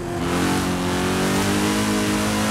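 A BMW M3 G80 in Forza Horizon 5 accelerates hard into a corner, its engine holding a loud, steady, rising drone that fills the whole moment with no talking.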